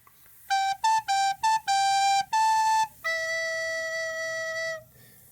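Recorder plays the last line of a song: a run of short, clear tones ending on one long held note, close and alone with no talking.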